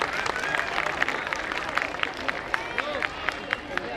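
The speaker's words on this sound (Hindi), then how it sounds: "तो इनके लिए एक बार जोरदार तालियां हो जाए" Enthusiastic audience clapping at a school annual function for the choreographers, a dense steady patter with crowd noise and voices mixed in.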